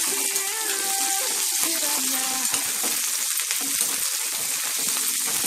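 Sliced okra and onions fry in a pan, a loud close continuous sizzle and crackle with watery bubbling and occasional stirring scrapes, no one speaking.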